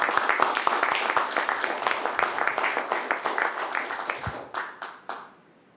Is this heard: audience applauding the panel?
yes